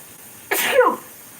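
A single short, sharp sneeze bursts out close by, brief and forceful, then quiet returns.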